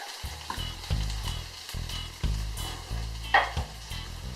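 Ginger and garlic fry in a pan for turkey patties, a close, steady sizzle punctuated by regular low scraping strokes as the mixture is stirred.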